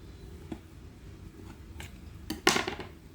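A knife slices a dry fruit roll into rounds, giving a few soft taps and then a louder, crisp cluster of cuts against the board near the end.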